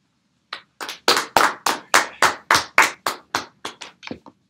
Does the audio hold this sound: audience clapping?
yes